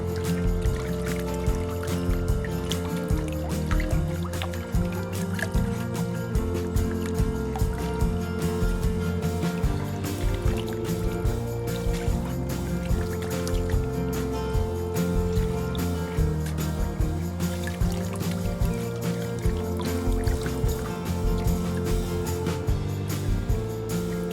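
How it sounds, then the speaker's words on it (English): Water rushes and splashes steadily as the carpet from a gold-mining highbanker sluice is rinsed out outdoors, a continuous loud, close wash with churning and sloshing and no pauses. "Washing this carpet out."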